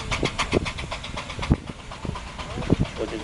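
A large two-cylinder compound steam traction engine chuffs and rumbles at a show ring, with rhythmic exhaust beats and mechanical knocks repeating steadily at close range.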